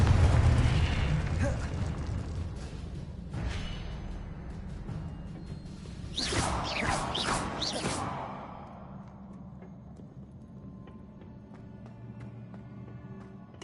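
In Hogwarts Legacy, a Confringo fire spell bursts with a sharp impact, and a whooshing fiery flare follows midway before the noise settles into a quieter game ambience with a low hum.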